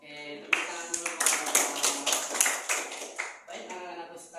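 Children clap their hands in a classroom, a burst of fairly close, irregular claps lasting about three seconds before a brief pause and a few more, with a teacher's voice present.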